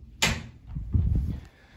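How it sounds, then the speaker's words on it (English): An interior door swings open with a sharp knock, then its bottom edge drags and scuffs across a rug in a low rumbling scrape before settling, close and fairly loud. "when you open the door, it hits the rug"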